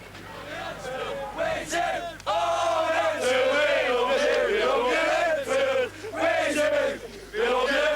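Football fans at the 1985–86 FA Cup final chant and shout in a loud, sustained roar, their massed voices rising and falling in sung phrases with brief dips between bursts.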